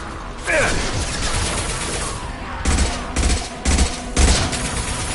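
Rapid bursts of gunfire in the Mass Effect video game crackle in clustered volleys, loud and close, over background combat noise, with a voice speaking briefly.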